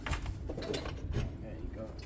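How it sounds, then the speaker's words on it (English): A Chinese 250cc motorcycle engine idles on choke with a loose mechanical rattle and uneven knocking, close and fairly loud, with a voice talking over it. "All that rattling sounds terrible."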